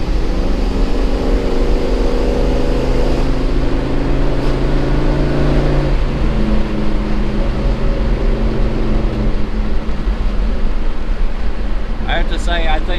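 A Chevrolet S-10 pickup with a swapped 5.3-liter LS V8 accelerates hard, its engine note climbing through gears in loud, steady drones with a brief shift pause, heard from inside the cab with a voice talking over it.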